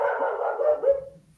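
A single loud, close bark from an Australian cattle dog (blue heeler), drawn out into a brief whining tail, with no talking.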